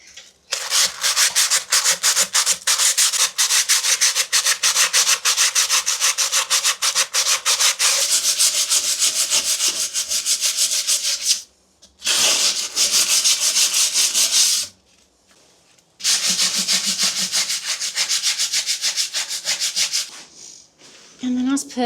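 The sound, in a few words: light sandpaper rubbing rust off metal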